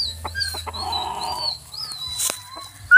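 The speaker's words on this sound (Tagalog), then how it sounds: "Grabing sinyal na manok na to." A gamecock clucks and makes soft throaty calls up close, several short vocalizations over a quiet background.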